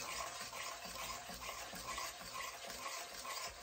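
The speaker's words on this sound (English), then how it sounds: "Just keep stirring. Until all the sugar dissolve." Sugar being stirred in a pan over medium-high heat for pecan candy, a steady gritty scraping and faint sizzle that runs continuously and softly at close range with no voices.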